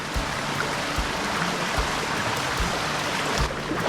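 Creek water flowing from a small cold spring on a Tennessee creek, a continuous close babble and rush with small splashy pulses recurring throughout.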